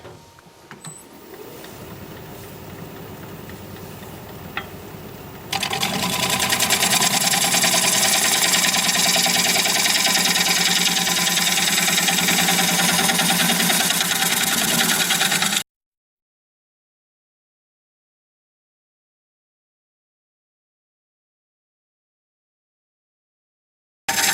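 Wood turning on a lathe, working an oddly shaped blank, gives a steady, loud broadband whir and cutting hiss near the mic, with a quieter machine hum leading in before the tool bites. It runs continuously, then cuts off abruptly into silence.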